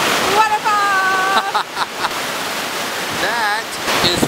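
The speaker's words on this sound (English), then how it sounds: "Where are we, dear? Waterfall!" Fern Falls, a waterfall, roars in a steady broadband rush, loud and close, while people talk in a raised voice over it.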